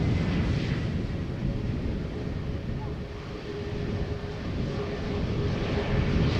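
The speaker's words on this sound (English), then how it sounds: "Welcome, A321neo from Transavia numero" A Transavia Airbus A321neo lands at Schiphol Airport, heard as a loud, continuous, broadband engine and air roar that stays steady throughout, mixed with wind noise on the microphone.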